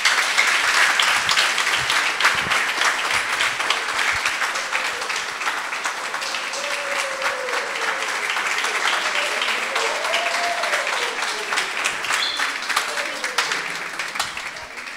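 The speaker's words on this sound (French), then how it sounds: "Je vous demande de l'applaudir," Long, steady audience applause as a slam poet walks onto a stage, dense clapping lasting about fifteen seconds at even loudness, with a voice speaking faintly over it midway.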